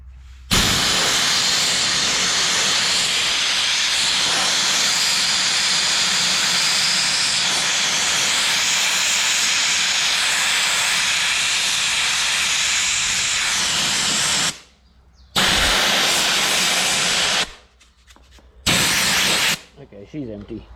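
A blasting gun fed by an air compressor lets out a loud, continuous rushing hiss for about fourteen seconds, then cuts off and fires in a few shorter bursts separated by silence.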